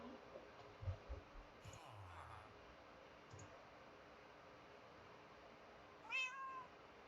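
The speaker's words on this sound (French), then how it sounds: "Les petits chats" Cats meow in the video game Minecraft: a couple of soft meows in the early part, then one clearer meow near the end, faint against a quiet background with a few light clicks.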